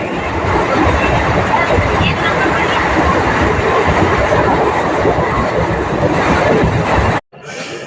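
A local passenger train runs along the rails with a loud, steady rumble and rattle of the carriages, heard from on board. The noise cuts out abruptly near the end, then returns more faintly.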